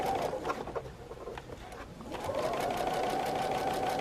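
An older sewing machine stitches a quilt block, its steady rapid whirring and needle patter running close and fairly loud, pausing briefly midway before resuming continuously.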